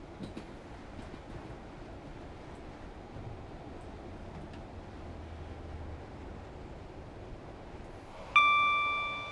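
A sharp, bright metallic ping rings out loud near the end of Train Sim World 4 on the London to Brighton line, ringing down over a low, steady rumble of train running noise.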